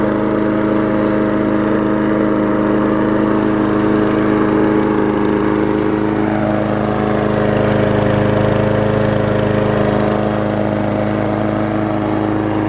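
A Murray lawn mower with a Quantum engine runs steadily at close range, a loud, even drone whose pitch shifts slightly partway through, with no talking.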